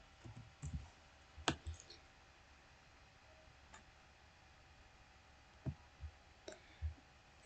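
Several computer mouse clicks in SmartPLS 3 software, sharp and close, arriving in small clusters near the start and again toward the end over a quiet background hiss.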